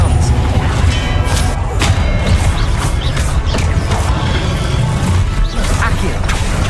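Expelliarmus spell cast in the game Hogwarts Legacy during a duel, a loud burst of crashing, thudding magical impacts with whooshes, dense and close, with a voice talking over it.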